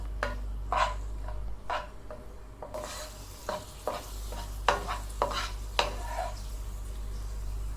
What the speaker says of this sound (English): To this let us add raisins and roast well.